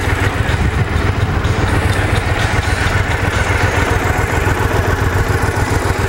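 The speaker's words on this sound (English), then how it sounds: "The engine runs good and solid." A Triumph America motorcycle with factory exhaust idles cold, not yet warmed up, in a loud, close, steady low-pitched chug with a faint mechanical clatter and no talking.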